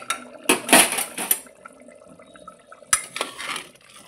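Metal lid lifted off a cooking pot of Bengali potato curry (aloo dum), a couple of close clanking knocks and scrapes of metal on metal, then a second, fainter clatter a few seconds later, no talk.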